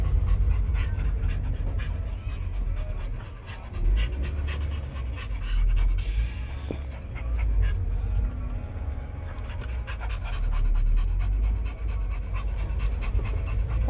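Rapid, continuous dog panting close by over a low rumbling engine and road noise, with faint squeaks and clicks inside a moving vehicle.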